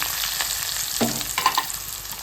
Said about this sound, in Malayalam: നമുക്ക് കട്ട് ചെയ്ത് വെച്ച സവാള ചേർത്ത് കൊടുക്കാം.